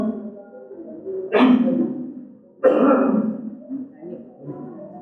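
Two loud, forceful coughs about a second apart, close up, with murmuring voices and breathy sounds between them.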